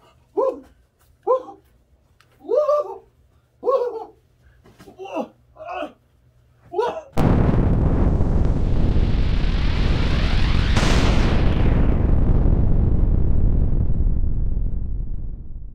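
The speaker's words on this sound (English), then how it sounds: "A grenade!" A grenade explosion: a series of short, loud shouted bursts, then a sudden, very loud blast that rolls into a long, roaring rumble lasting several seconds before slowly fading.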